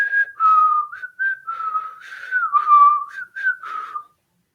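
A person whistles a short wavering tune alone, the notes sliding between pitches in quick phrases before stopping.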